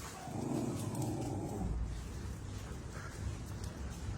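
Several rescued dogs growl and yip together at close range, a continuous rumbling growl with sharper yelps layered over it throughout.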